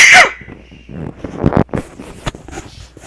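A single sharp sneeze bursts out at the start, close and loud, followed by scattered voices and movement noise during a pause in a tabletop role-playing game session.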